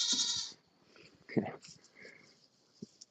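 A nearby goat in a large herd bleats loudly at the start, then softer bleats and scattered animal noises follow.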